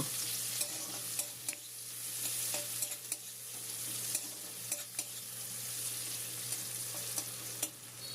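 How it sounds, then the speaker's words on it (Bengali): Chopped onion frying in a little oil after ginger, a soft steady sizzle with scattered faint ticks and pops, quiet and continuous. "পেঁয়াজ কুচিটাও একটুখানি তেলের মধ্যে ভেজে নেব"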